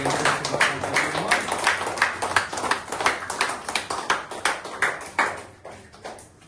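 A small crowd at a birthday gathering applauds Pavan Kumar, a near, lively burst of clapping with uneven sharp claps that thins toward the end.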